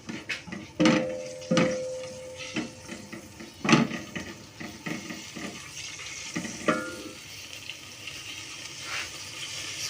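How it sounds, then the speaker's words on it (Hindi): Semolina frying in a little ghee in a pan is stirred with a utensil, producing scattered scraping clinks and knocks over a soft sizzle, close and intermittent, with no speech. "सूजी को हमने फ्राई करना है और हमने इतना ज़्यादा घी नहीं डालना"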